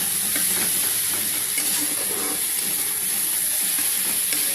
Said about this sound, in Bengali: এটাকে ভালো করে ভাজবো